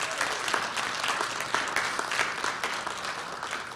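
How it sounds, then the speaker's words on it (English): An audience at an annual meeting applauds, with dense, sustained clapping from many hands filling the room for several seconds. "Can we just give a round of applause to each of our..."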